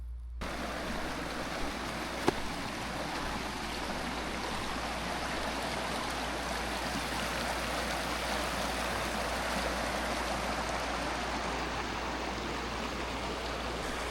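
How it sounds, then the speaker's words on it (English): A swollen creek runs high after rain, a steady broadband rush of flowing water sustained and fairly close throughout, with no talking over it. "Creek has come up a ton."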